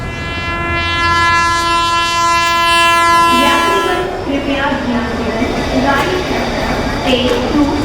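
A train horn blares loud and sustained for several seconds before giving way to the rumbling, clattering roll of the passing train, with muffled voices mixed in.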